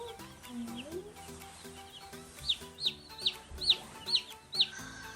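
Baby chicks in a brooder box give a run of about six high, bright peeps in quick succession, standing out over a low background murmur.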